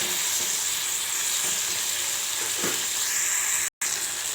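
Vegetables and curry leaves frying in oil in a pan for village-style sambar, a steady loud sizzle with a few soft stirring scrapes, no talking.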